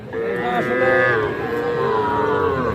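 A young bull calf moos in one long, drawn-out call, loud and close, with a wavering tone.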